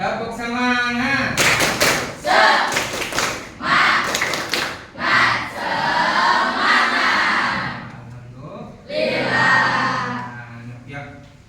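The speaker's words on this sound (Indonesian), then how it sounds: "Coba tepuk semangat ya. Tepuk semangat." Indonesian schoolchildren in a classroom perform a rhythmic clapping chant, with bursts of sharp group claps alternating with shouted unison voices. The sound is loud and close, with short pauses between the sets of claps.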